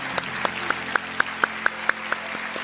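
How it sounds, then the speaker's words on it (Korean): Sharp, evenly spaced claps ring out one at a time in a church sanctuary over a low sustained hum, a slow rhythmic clapping from the congregation blessing newly appointed elders. "큰 박수로 축복합니다."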